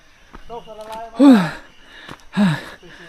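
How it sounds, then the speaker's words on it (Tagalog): Heavy, labored breathing close to the microphone while hiking uphill, with two loud, voiced gasping breaths between quieter huffs. "maririnig nyo na yung totoong hingal ko"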